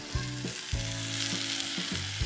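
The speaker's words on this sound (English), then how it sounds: "cooking the veggie burgers right here" Veggie burgers fry on a camp stove at a California campsite, giving a steady close-up sizzle with a few faint tonal whines running through the whole stretch and no talking.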